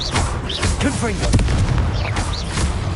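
Confringo explosive fire spells in Hogwarts Legacy land as repeated loud booms and crackling bursts mixed with whooshing casts and shouted voices, dense and close across the whole stretch.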